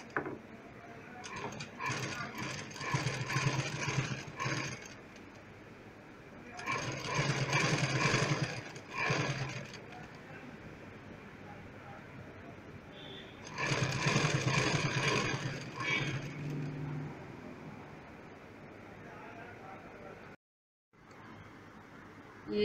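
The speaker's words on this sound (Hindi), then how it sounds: "ये इसमें हम सिलाई कर देंगे।" A sewing machine stitches a shoulder bag in three long runs of rapid mechanical whirring and clatter, separated by quieter pauses, close and steady with no talking.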